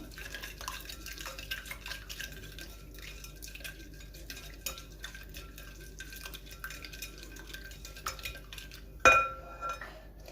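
Oil and dough ingredients mixed in a bowl with a utensil, giving faint clinks and soft scraping against the bowl and a sharper knock near the end, quiet and close, no talking.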